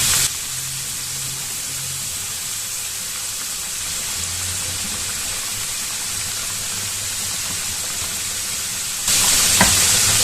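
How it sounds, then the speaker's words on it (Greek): Potatoes fry in a mix of olive and sunflower oil for traditional Greek briam, a steady close hiss and sizzle that runs throughout and suddenly grows brighter and louder near the end. "εμείς τηγανίζουμε σε ένα μείγμα από ελαιόλαδο και ηλιέλαιο"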